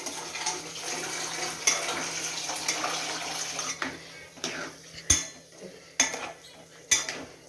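Tamarind water poured into a cooking pot and stirred, a steady wash of liquid splashing with metallic clinks of a spoon against the pot that sharpen into distinct knocks near the end.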